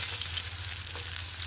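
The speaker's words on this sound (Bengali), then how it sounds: "আমার মাছটা ভাজা হয়ে গেছে। এখন আমি এটাকে তুলে নেব।" Fish frying in hot oil in a pan, a steady, close, continuous sizzle with hissing crackle and no voices.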